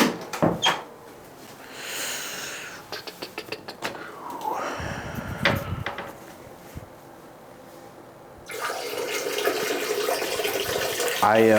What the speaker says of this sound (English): I was just spilling water.